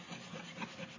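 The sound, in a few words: scraping wax off a journal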